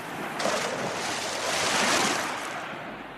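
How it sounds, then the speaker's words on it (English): Sea waves surge and wash around a big ship, a broad rushing swell that builds and fades over a few seconds, loud and close with wind-like hiss and no talking. "Suddenly, Peter takes Hook's sword and pushes him into the sea."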